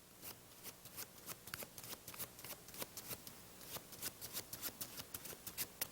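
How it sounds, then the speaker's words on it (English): A deck of red- and blue-backed playing cards being shuffled by hand, a run of crisp riffling bursts in quick irregular succession, close and fairly quiet with no talk. "I'm going to shuffle."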